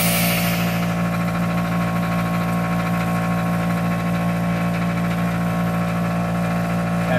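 An air compressor hums steadily at close range, a loud, constant mechanical drone testing a repaired air hose at nearly 150 PSI, with no voices.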